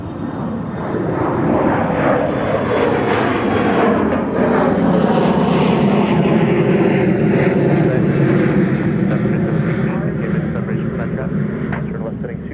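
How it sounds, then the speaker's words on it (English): An airliner departs runway 30L at Minneapolis–St. Paul Airport, its jet engines building into a loud, sustained roar that swells and slowly recedes over about twelve seconds, with faint radio chatter underneath. "This is what primetime aviation from the Twin Cities is all about. Rapid fire departures here on 30 left."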